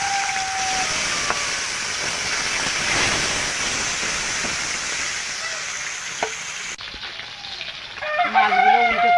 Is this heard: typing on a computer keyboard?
no